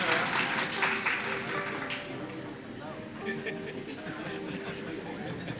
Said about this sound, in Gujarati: પહેલી વાર તાળીયું પડ્યું આજ